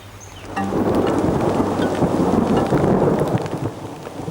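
Rolling thunder rumbles loudly over steady heavy rain during a storm, a continuous low roar that swells after a quieter opening and holds to the end.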